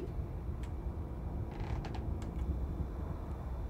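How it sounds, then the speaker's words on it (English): Creaking from the horror video game Amanda the Adventurer, a few short, faint groans and scrapes like an old wooden door or floorboard, heard over a steady low rumble of ambience with no talking. "What's that creaking?"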